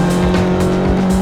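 A Formula 4 race car accelerates on track with a loud, close, sustained engine roar and a strong steady tone that rises and pulses briefly, no voices.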